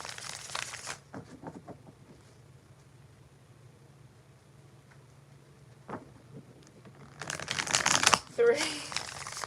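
Tarot cards shuffled in quick riffling bursts, a papery flutter at the start and a louder, longer crackling shuffle near the end, with soft taps and rustles between.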